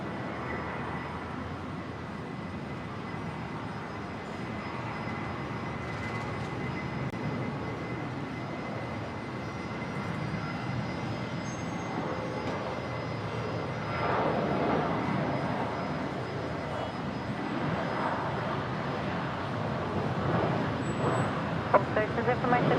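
A Qantas airliner rolls for takeoff on runway 01 at Brisbane Airport, its jet engines building from a steady roar into a louder, rising rumble that continues throughout.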